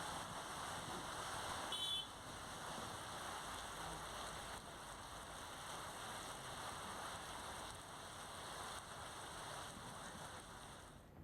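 Steady monsoon rain falls in Saurashtra, a continuous even hiss with no break across the whole stretch and no one speaking.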